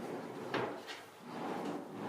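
A built-in wooden drawer in a 44-pyeong apartment dressing room is pulled open, making a short sliding rumble with a light knock, followed by a softer second slide, close and fairly quiet.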